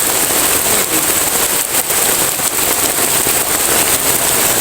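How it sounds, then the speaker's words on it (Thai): Heavy rain pours steadily onto a campsite and its tents, a loud, dense, unbroken hiss with scattered heavier drops spattering close by. "ฝนตกหนักมากครับพี่น้อง"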